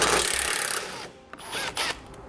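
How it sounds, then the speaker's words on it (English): An 8mm socket tool backs a bolt out at the front of a 2013 Jeep Grand Cherokee during a tow base plate install: a close, sustained mechanical whir, then a few short metallic rattling bursts. "I'm going to go ahead and remove this one with an 8mm socket."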